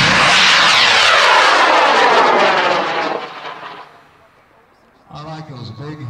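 A large, heavy model rocket on an L930 motor roars loudly at launch, the harsh rushing burn fading as it climbs away over about four seconds, then voices talking near the end.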